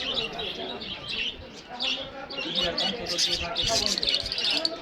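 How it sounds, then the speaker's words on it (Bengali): Lovebirds for sale at a bustling Savar bird market chirp in quick, bright bursts, with several birds calling near and far while people talk in the background. "আর এই যে এখানে সুন্দর সুন্দর লাভবাট পাখি আছে"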